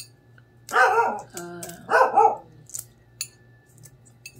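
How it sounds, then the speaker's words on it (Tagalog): A dog barks nearby late at night, two loud barks followed by softer yips and rustles against a faint steady hum. "May aso dito, guys. Hindi pa natutulog."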